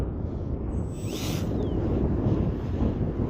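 Strong wind buffets the microphone at an outdoor field where an HK Hawk King RC plane is flown, a steady loud low rumble throughout with a brief higher whine near the start.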